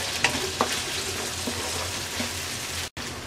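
Potatoes fry in a pan for Bangladeshi-style vegetable pulao, giving a steady, close sizzle with a few light clinks and a brief dropout near the end.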